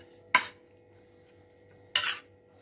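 Tomato chutney is stirred in a little oil in a pan over the gas, with two short, sharp scraping clatters separated by a quiet stretch and only a faint background hum.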